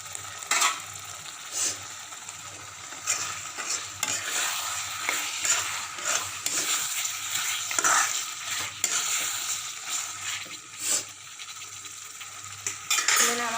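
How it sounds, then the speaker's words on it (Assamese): Goat mutton frying and being stirred in a pot, with continuous sizzling and repeated scraping clinks of a metal spoon against the pan, close and loud with no talk. "সেইকাৰণে মই কৈছোঁ যে ভাজি ভাজি বনাব"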